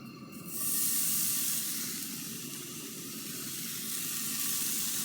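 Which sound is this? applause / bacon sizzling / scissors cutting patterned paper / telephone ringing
bacon sizzling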